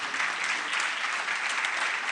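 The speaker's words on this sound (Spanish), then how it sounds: "El aplauso para cada uno de los artistas que formaron parte" An audience applauding the artists at a conference event, a dense, even wash of clapping sustained throughout, fairly loud and without pauses.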